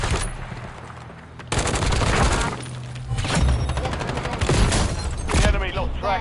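Gunfire in the Call of Duty video game: rapid automatic bursts rattle across the clip, loud and close, with several sustained volleys and sharp impacts, no voices.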